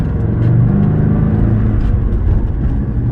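A car taking off with shaky, uneven acceleration, its engine rumbling loud and steady from inside the cabin with no talk.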